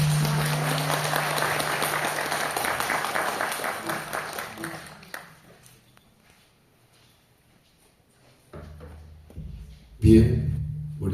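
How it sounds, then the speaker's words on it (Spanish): A crowd applauds steadily for several seconds, the clapping thinning out and fading, followed by quieter room noise and a few scattered sounds. "Lo recibimos con esos cariñosos aplausos también."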